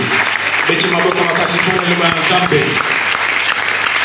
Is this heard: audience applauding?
yes